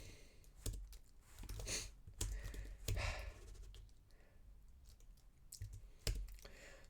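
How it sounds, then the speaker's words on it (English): Quiet keystrokes on a computer keyboard tap in an uneven rhythm, clustered bursts of clicks with pauses between, close by and faint, with no talking. "If I could type normally,"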